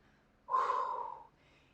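Heavy breathing during a dumbbell workout: one strong, close exhale lasts about three quarters of a second, rising sharply and then trailing off.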